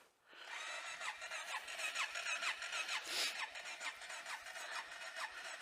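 A motorcycle engine idles while warming up on a cold winter day, a steady mid-pitched running note with a squealing edge and a slight rhythmic pulse, close and alone.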